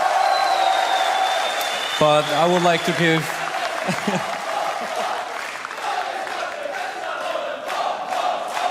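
A crowd at a StarCraft 2 WCS Premier League semifinal cheers and applauds, a dense roar that carries throughout while someone speaks over it.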